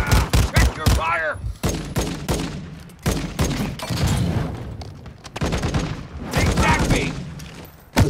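Rapid gunfire in Warzone 2, with loud repeated bursts and single sharp shots spread through the stretch alongside heavy thuds, and some radio-style voice chatter mixed in.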